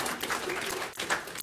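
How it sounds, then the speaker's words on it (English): Brief audience applause from a small indoor crowd at a quiz meetup, a short burst of moderate clapping. "Round of applause."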